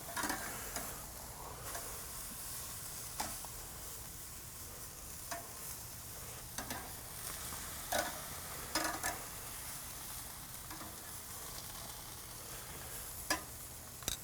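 Tenderloin steaks warm over low heat on a Weber Silver grill before a final sear, with a faint steady sizzle and occasional soft pops and crackles, quiet and continuous with no talk.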